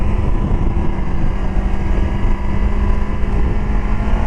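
A KOVE 250RR Thornbird small racing motorcycle engine pulling on throttle from low revs in third gear, a loud, close, continuous drone that stays fairly steady throughout.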